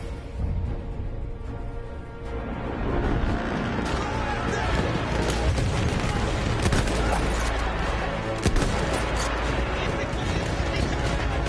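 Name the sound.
gunfire in a PS5 video game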